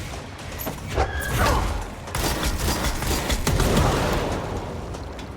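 Dense gunfire from enemies shooting back in the video game Control, a steady busy stretch of shots and impacts throughout with no speech over it.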